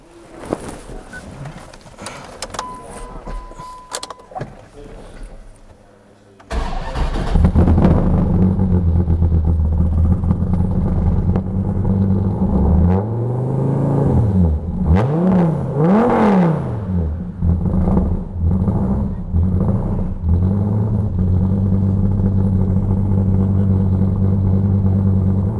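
A muscle car making about 680 rear-wheel horsepower starts after some quiet background noise, then revs repeatedly, loud and close, with a deep rumbling idle between the rising and falling engine sweeps.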